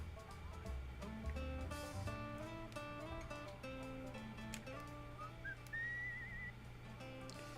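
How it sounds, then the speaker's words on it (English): In the video game Where the Water Tastes Like Wine, a rising whistled tune of sliding notes emerges late over steady layered game music, faint and brief against the dense background score. "I need to figure out how to do the whistle thing"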